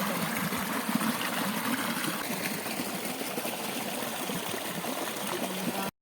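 A mountain stream runs near a waterfall in the hills, giving a constant broadband rush of flowing water that holds steady and fairly quiet for several seconds before cutting off abruptly.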